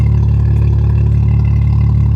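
BMW F87 M2 with the N55 engine and M Performance exhaust, a deep, throaty, steady idle rumble, loud and close with an even pulsing beat.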